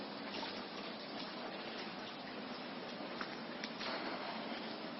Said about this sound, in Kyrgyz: Суу мына ортодо бир суу бар.